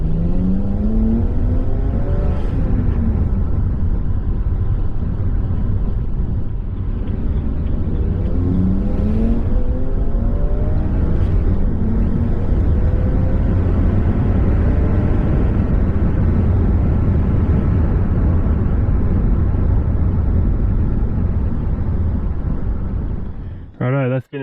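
A BMW 335i E92 with the N54 engine drives along, a continuous low engine and road drone with rising and falling harmonic sweeps as it accelerates, cutting off abruptly at the end.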